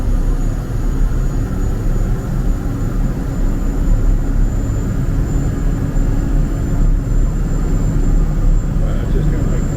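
A gas turbine engine runs on a dyno at about 1,300 horsepower, making a loud, dense, steady roar with broad rumbling noise that holds constant throughout.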